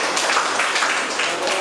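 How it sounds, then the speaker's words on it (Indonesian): A classroom of students applauds a presenting group with brisk, close clapping from a small crowd that stays steady for a brief moment. "Tepuk tangan buat kelompok 2."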